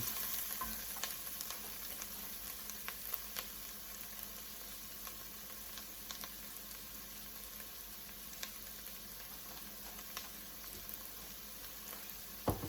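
Mushrooms frying in a pan for a Brussels sprout risotto, a steady close sizzle throughout with occasional stirring clicks and scrapes, no talking.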